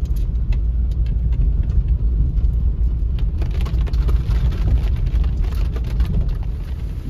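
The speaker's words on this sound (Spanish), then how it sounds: "Ya le está parando de llover." Steady rain drumming on a vehicle driving along a rural road, with a constant loud roar of tires and engine mixed with the patter of drops, continuous throughout and no speech.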